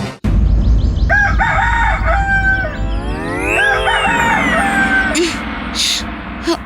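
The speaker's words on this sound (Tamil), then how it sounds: "ஐயோ, இந்த சேவல் தூக்கத்தை கெடுக்குது." A rooster crows loudly and close by, several drawn-out cock-a-doodle-doo calls following one another with barely a pause, alone without any voices.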